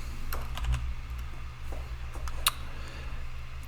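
A computer keyboard is typed on at close range in a quiet room, giving a few light, sparse key clicks over a low electrical hum, with one sharper tap near the end.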